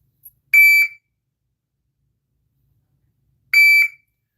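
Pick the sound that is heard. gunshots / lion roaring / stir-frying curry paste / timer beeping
timer beeping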